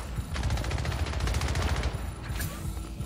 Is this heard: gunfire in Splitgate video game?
yes